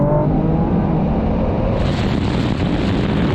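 A Honda NSX and a Porsche 911 Turbo S accelerate hard side by side in a drag race. A loud, sustained engine roar with heavy wind buffeting carries through the whole stretch.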